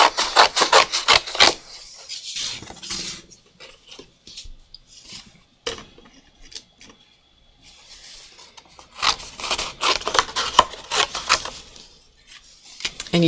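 Scissors snip around dried art journal pieces, giving dry papery rasps and rubs in bursts, busier at the start and end with a quieter stretch in between.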